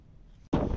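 A brief gust of wind buffets the microphone at a trout-fishing spot, a sudden loud rumbling roar that cuts in after a quieter, breezy stretch.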